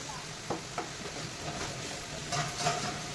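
Fish, koi, slides into a pan of sizzling ground spices, giving a steady hiss and crackle with a couple of soft clicks from stirring and the fish landing.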